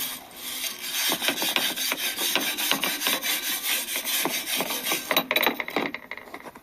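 Painted cast iron being scuffed with an abrasive before painting, a rapid run of close, rhythmic rasping strokes that continues almost without pause.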